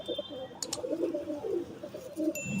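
Star pigeons in a breeder loft give soft, low cooing calls that repeat steadily through the clip, with a little background noise and faint bird chirps.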